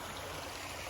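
Rainwater runoff coursing along a trail like a small creek, a steady broadband rushing and gurgling flow, close and continuous.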